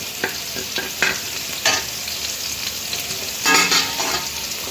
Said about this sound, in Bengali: এবার তার মধ্যে জিরাটা একটু ভাজা ভাজা হবে।